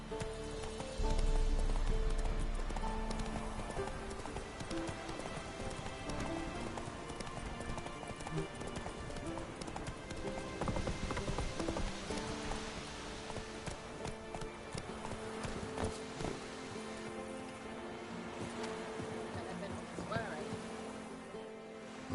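Hoofbeats of the horse Roach galloping in The Witcher 3, a steady rapid clip-clop running continuously under ambient game music and faint voices, fairly close and even in loudness.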